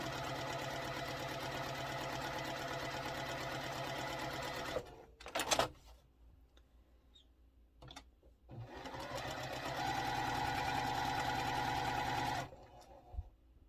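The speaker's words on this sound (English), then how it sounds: "we're going to sew on both sides of these lines here to make 4 half square triangles" A sewing machine stitching quilt block pieces along drawn lines to make half-square triangles runs with a loud, steady mechanical whir, pauses briefly with a few handling clicks, then starts again and stops near the end.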